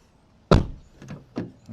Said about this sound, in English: Now I'm just going to lock the door.